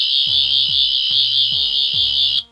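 A loud, shrill electronic whine from a 14th Doctor toy sonic screwdriver on its green setting holds steady while a rapid pulsing warble repeats beneath it, then cuts off abruptly.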